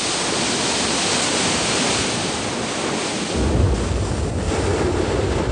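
Ocean surf crashing where lava flows into the sea, a loud continuous broadband roar with wind buffeting the microphone and a deeper rumble swelling in the second half.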